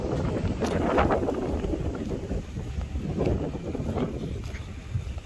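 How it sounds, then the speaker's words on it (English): Wind blowing outdoors beside water at a storm water treatment area, rushing and buffeting against the microphone in a steady, rough roar with gusts, moderately loud and alone. "It is windy."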